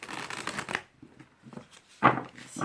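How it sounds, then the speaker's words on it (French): Oracle cards are shuffled in a quick riffle of close, crisp flutters, then after a pause come a few soft slides and a sharp snap as a card is drawn, quiet and alone. "Je vais tirer 6 cartes."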